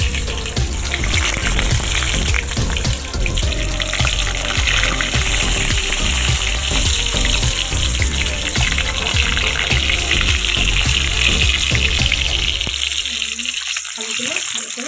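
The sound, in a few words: whole boiled potatoes frying in oil for biryani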